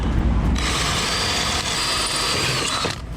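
A power drill bores out a pop rivet with a 5mm bit while repairing a flood-damaged BMW M135i xDrive, a steady, loud whining grind running nearly the whole time close to the mic, with no talking.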